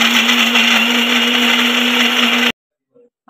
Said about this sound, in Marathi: आता याचे जरा बारीक बारीक तुकडे करून मिक्सरला बारीक करून